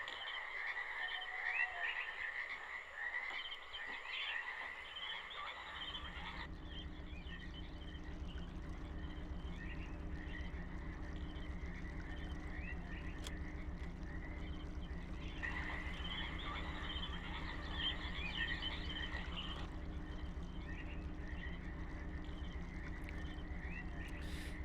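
Frogs croak in the video game realMYST, a dense, continuous chorus of rhythmic calls that goes on steadily throughout at a low, distant level.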